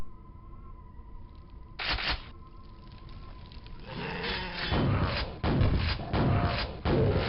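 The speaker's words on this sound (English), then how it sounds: "They just keep hitting them with rockets." Rocket explosions from ogres in the video game Quake: a mid-level blast bursts early, then a run of rumbling, thudding impacts comes in close succession over a steady droning game ambience.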